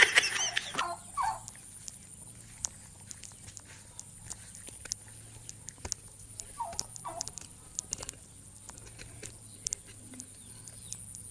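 Chickens cluck and squawk in short bursts near the microphone, scattered among rustling and scratching footsteps, with a steady hum underneath.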